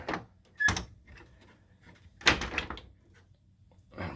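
A working latch on a shop door is lifted and the door swings open, giving a couple of sharp metallic clacks and knocks, fairly close, with quieter rattles in between and no talking.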